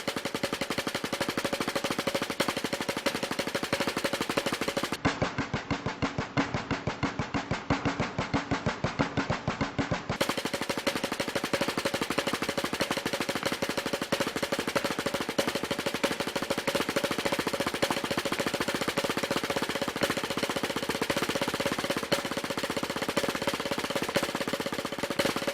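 A snare drum plays even, rapid 16th-note strokes, then switches to a bar of dense double-stroke rolls. The sticking is practiced in steady alternating bars, close and crisp, with no talk.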